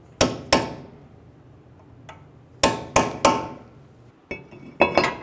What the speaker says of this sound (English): Using a hammer and a punch, stake the axle nut.